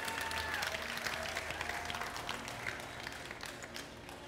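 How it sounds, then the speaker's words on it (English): A faint, steady wash of audience applause at a cooking show event, continuous and distant-sounding, with no talk over it. "Round of applause now."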